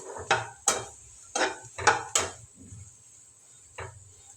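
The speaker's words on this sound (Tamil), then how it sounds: "அந்த சூட்டில் லேசாக அப்படியே கலந்து விட்டுக்கலாம்" A spoon clinks and scrapes against a hot pan, lightly mixing an apple dish, in a few quick strokes, then pauses before one last soft knock.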